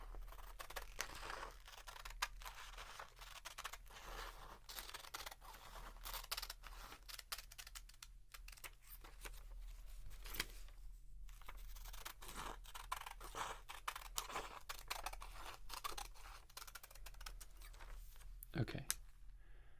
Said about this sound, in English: These scissors need to be sharpened.